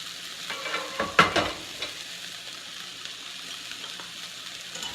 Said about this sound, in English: Stir those in.